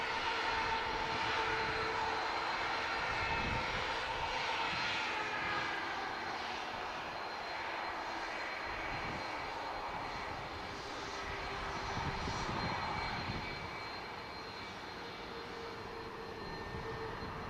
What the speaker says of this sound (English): EasyJet rotating now.